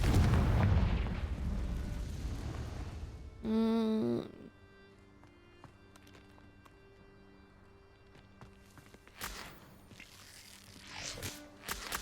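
A Confringo blasting spell goes off in Hogwarts Legacy with a loud burst, then a short tonal chime. Quiet, faint mechanical creaks follow, and two more sharp bursts come later.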